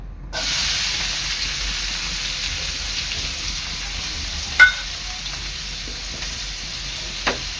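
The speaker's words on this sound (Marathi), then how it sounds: "आता यामध्ये टाकायचा बारीक चिरलेला कांदा" Finely chopped onion frying in a pan, a steady close hiss of sizzling oil with a couple of brief utensil clicks, no talking.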